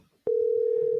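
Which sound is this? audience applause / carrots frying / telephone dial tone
telephone dial tone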